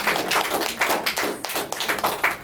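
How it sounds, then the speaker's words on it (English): Audience clapping for a student at a question-and-answer session, a short burst of sharp hand claps at moderate loudness, fairly close, with no talk over it. "I'll give a huge round of applause for Rishika."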